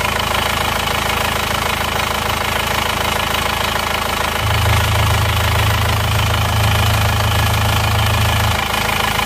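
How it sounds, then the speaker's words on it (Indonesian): A diesel engine of an Isuzu Panther idles with a steady knocking rumble and audible blow-by gas, loud and close, with a deeper droning tone joining midway and holding for several seconds. "Blow by gasnya aja agak banter ya yang ini."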